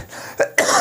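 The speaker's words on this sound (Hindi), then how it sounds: "सॉरी, थोड़ा खांसी बढ़ गया है आजकल मेरा" Two quick, harsh coughs close to the microphone, the second slightly louder, with a short gap between them.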